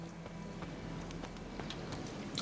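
Faint, quick clip-clop of horse hooves in The Witcher 3 video game, a steady rhythmic patter of hoofbeats under a soft background hiss, no talking.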